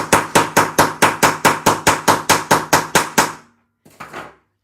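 A hammer strikes hard to punch a hole for a metal eyelet, fifteen loud, sharp blows in an even fast rhythm, close by, then a pause and one softer knock.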